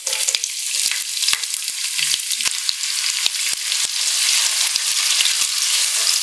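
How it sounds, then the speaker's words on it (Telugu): Sliced onions and fennel seeds fry in hot oil with a steady, bright sizzle that crackles and pops throughout, close by and without any voices. "ఈ ఆనియన్స్ వచ్చేసి కలర్ చేంజ్ అయ్యే వరకు మనం ఫ్రై చేసుకుందామండి."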